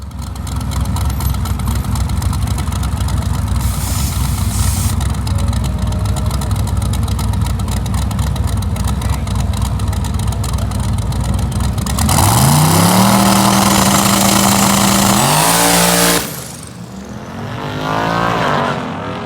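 An LS-swapped Mazda RX-7 running nitrous roars loud and continuous at full throttle, then the engine note climbs and cuts off before a brief rev and fade at the end.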